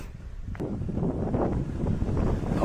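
Wind blowing on the Yelagiri hill road, a steady, close, rumbling roar buffeting the microphone with no speech over it.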